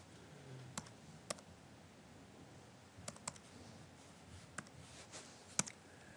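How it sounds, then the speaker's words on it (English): Keystrokes on a computer keyboard as a password is typed: sparse, sharp clicks arriving singly and in small pairs against a quiet room hiss, fairly close and soft. "and then you type in your password."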